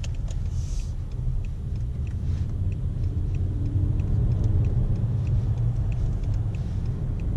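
A BMW E60 M5 engine rumbles steadily from inside the cabin, with a slow, lurching SMG gear change into fourth at the slowest shift setting as the revs shift under a continuous low drone.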